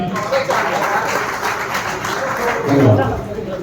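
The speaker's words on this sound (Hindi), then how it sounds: "एक बार सबके लिए आप लोग ताली बजाइए" Crowd at a political rally in Bihar clapping steadily as a dense, sustained wash of applause that swells slightly toward the end, with a voice speaking over it.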